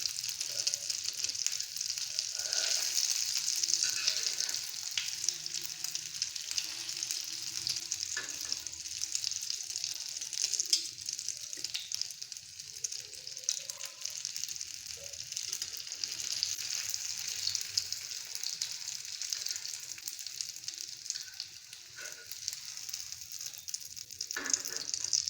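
An omelette for an egg roll fries in a pan with a steady, bright sizzle that runs throughout, with faint stirring or scraping touches and no talking.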